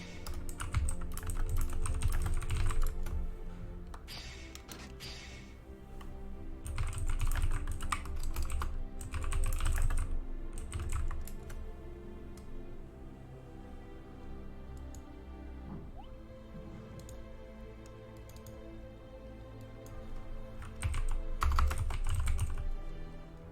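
Someone types in a fighting-game tournament chat on a computer keyboard, producing close, rapid clusters of clicky keystrokes that come in bursts with brief pauses between them, fairly quiet and with no voices.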